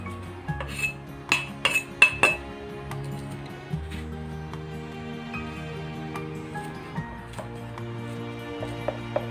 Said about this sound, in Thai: จะหั่นทีละอย่างนะคะ